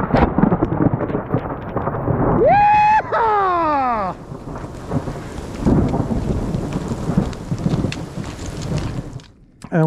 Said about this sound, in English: When you have one second between flash and thunder, you know that baby's close.